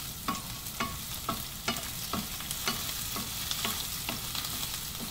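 A spice mixture for kohlrabi curry sautés in a pan, with a spoon scraping and stirring in a steady rhythm of sharp knocks over a continuous soft sizzle, close and clear with no talk.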